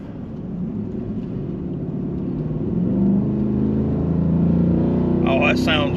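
A Ford F-150 with a 5.0 Coyote V8 and an S&B intake pulls away, its low engine rumble swelling steadily and staying close and loud, with a brief higher noise near the end.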